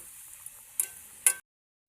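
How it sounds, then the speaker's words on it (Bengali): Luchi, puffed deep-fried flatbread, sizzles quietly in hot oil in a pan: a faint steady hiss with two sharper crackling bursts close together, then the sound cuts off into silence. "এইরকম করে আমি বাদবাকি লুচিগুলো সব ভেজে নিব"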